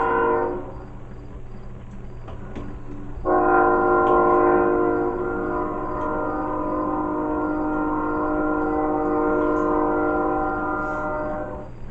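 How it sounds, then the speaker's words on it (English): A train rumbles past with a steady, loud horn-like harmonic drone rising midway, over a low continuous rolling rumble of wheels on track. "I knew it was a train coming. I could hear the clickety clack."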